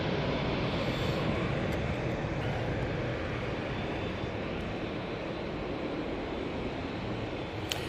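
EasyJet Airbus A320-200 taking off at Manchester Airport, a broad steady engine roar holding at moderate distance throughout without letting up.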